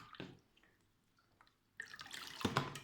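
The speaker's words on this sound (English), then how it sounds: "A little drop of water just for fun." Water drips and splashes a little, a faint tap near the start and then a louder burst of trickling and dripping in the second half, with no one talking.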